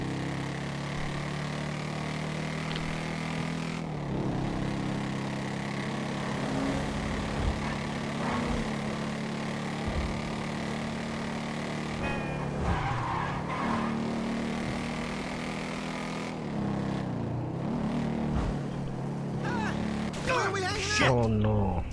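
A car drives and skids in the video game GTA V on the streets of Los Santos. A steady engine drone runs throughout with brief tyre-squeal bursts, and a voice is present under the game sound.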